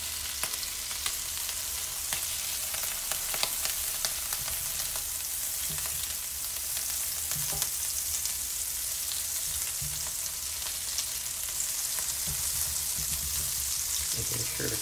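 Dutch baby batter sizzling and frying in an enamel cast iron pan, a steady, close, continuous hiss with small crackles throughout and no talk.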